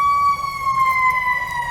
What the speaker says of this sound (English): So there's an ambulance over there.